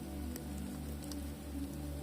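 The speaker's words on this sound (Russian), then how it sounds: "Потихоньку дождик капает." Light rain taps steadily on a tarp shelter in the taiga at night, a soft, close patter of scattered drops over a low, even background.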